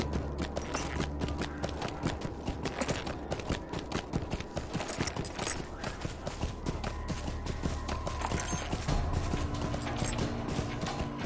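A goat mount's hooves clatter in rapid, irregular clip-clop steps while climbing over terrain in Lord of the Rings Online, steady and close throughout with faint game ambience.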